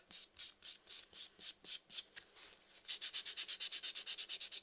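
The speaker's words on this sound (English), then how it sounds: "I'm using the 120 grit buffer, which is, these are our replaceable buffers on our reusable metal board" A 120 grit replaceable buffer pad on a metal board buffs acrylic nails with quick rhythmic rubbing strokes, slower at first and then a rapid, even run of brisk scrubs up close.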